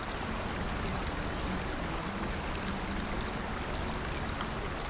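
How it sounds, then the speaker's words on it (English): River water flowing in the hunting video game Way of the Hunter, a dense, steady rushing wash that fills the whole stretch without pause. "They definitely fixed that loud water source thingy."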